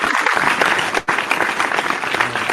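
Applause from a small group of guests joining a podcast episode with an animation team, dense steady clapping filling the stretch with one brief dip in the middle.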